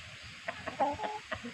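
Several short, low clucks from a chicken, spaced irregularly, fairly close and moderately loud, with no talking.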